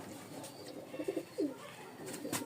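Giribaz pigeons from Rajshahi coo softly in a loft, a few short low burbling coos rising over quiet background.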